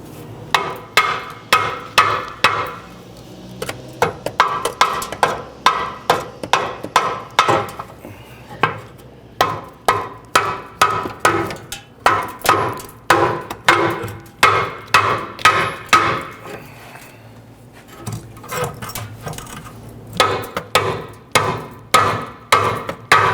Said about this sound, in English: You might be able to use a hammer to go ahead and tap this back.